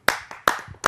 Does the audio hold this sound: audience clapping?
yes